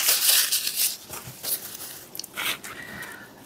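Paper towel being handled close by, with a few soft crinkling and rustling bursts spread over a few seconds, fairly quiet overall.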